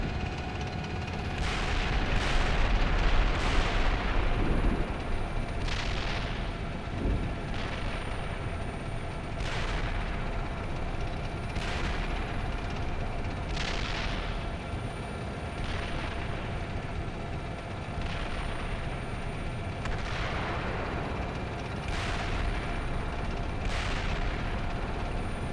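Artillery fire in a Fulda Gap armored-cavalry video game, with repeated sharp booms of shells firing and exploding at irregular intervals over a steady engine and rotor-like drone, continuous and fairly loud.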